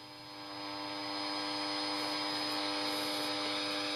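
A Yaesu radio receives the carrier of a quartz oscillator as a steady electronic tone with a faint hiss behind it, rising slightly at the start and then holding, and no talking.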